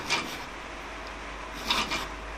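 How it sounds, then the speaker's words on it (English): A hand file rasps across a wrought iron hammer in two short strokes near the start and end, close and fairly distinct, with quiet pauses between them. "We're going to give that a filing."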